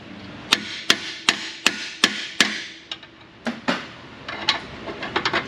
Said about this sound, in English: More hammering.